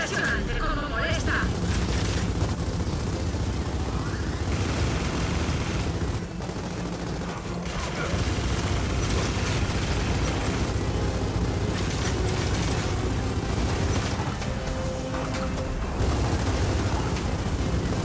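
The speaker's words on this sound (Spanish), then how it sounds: "¡Vienen más cohetes!" Continuous dense barrage of booming rocket explosions and gunfire in the video game Gears of War 4, loud and chaotic throughout, with shouted voices mixed in.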